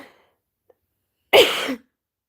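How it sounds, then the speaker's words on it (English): One short, sharp cough or throat clear sounds close by, after a faint breath and near silence. "I was trying not to cough."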